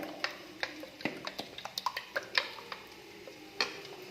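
Beaten eggs mixed in a bowl with pepper and garam masala for a Spanish omelette: a run of light, sharp clicks and taps from a utensil against the bowl, irregular and close, with no talking.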